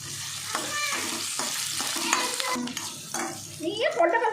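Capsicum gravy with ground chickpea masala sizzling and frying in a pan, close-up stirring scrapes and bubbling in repeated strokes, fairly loud, with faint voices nearby.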